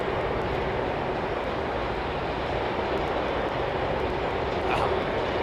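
Aircraft roll at London Heathrow Airport, with a steady, broadband jet engine roar that holds loud and constant throughout.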